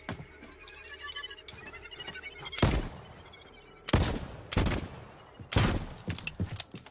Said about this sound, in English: Flawless shooting as usual.